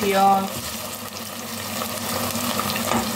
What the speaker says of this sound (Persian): پیاز همراه با گوشت سرخ بشه و طلایی بشه